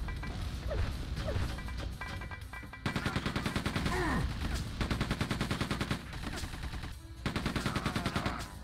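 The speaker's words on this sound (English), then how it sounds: "At least my machine gun fires as fast as their machine gun." Rapid machine-gun bursts in a Quake II: The Reckoning shootout come in repeated dense volleys with brief pauses, the gunfire fairly close amid mechanical clanks.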